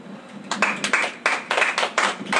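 Hand claps ring out in a Filipino church healing service, a run of about eight to ten sharp, fairly even claps in a reverberant hall, with no talk over them.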